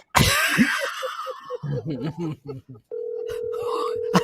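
A phone call placed on speakerphone, with talk and a sneeze-like burst at first, then a steady ringback tone rising and holding for over a second near the end.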